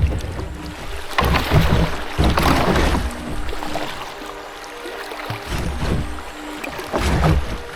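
Boats run through rocky rapids on the upper Amata river. Rushing, splashing water comes in surges, with hollow knocks and scrapes of hulls against stones, loud and close, and no talking.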